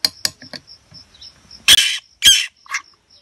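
A baby crow, fallen from its nest in a storm, squawks loudly in several harsh bursts between short sharp clicks and quieter chirps while being hand-fed.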